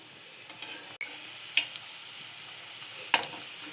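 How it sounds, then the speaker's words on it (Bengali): Kachori frying in hot oil sizzles softly and quietly, broken by small crackles and pops and a sharp click near the start, with no voices. "এইভাবে এপিট ওপিট লাল করে ভেজে নেব আমি এই কচুরিগুলো"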